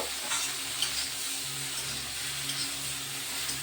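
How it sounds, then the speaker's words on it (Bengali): Okra stir-frying in a pan, a dense continuous sizzle with light stirring scrapes, close and steady, and no speech. "ঢেঁড়সগুলো দিয়ে দিলাম। এটাও সুন্দর করে কষিয়ে নেব।"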